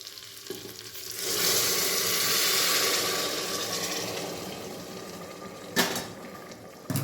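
A broad rush of hot water pours into a pot of khichdi, hissing and bubbling for several seconds, followed by a couple of sharp utensil clinks near the end.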